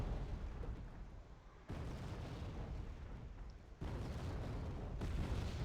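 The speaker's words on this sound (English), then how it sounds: "America or Vario is just gonna keep shelling this area over here" Artillery shelling in Wargame: Red Dragon, with a dense, continuous roll of distant booming impacts and rumbling blasts that swells in sudden steps, moderately faint and without speech.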